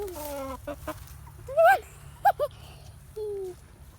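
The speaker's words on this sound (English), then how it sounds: "Here's the chickens." Chickens cluck and squawk in short bursts close by, several calls spread over a few seconds against a low steady hum.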